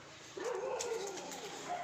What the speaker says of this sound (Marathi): लय ओरडू राहिले कुत्रे